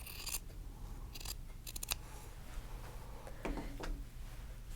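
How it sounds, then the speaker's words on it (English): Scissors snip straight across quilt fabric in several crisp, close cuts, a few in quick succession, over a quiet background with no talking. "So I'm going to cut that straight across."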